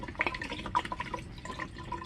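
Filtered water trickles and drips into the coolant canister of a BMW E30 325i, with splashy, uneven filling sounds running steadily throughout at close range.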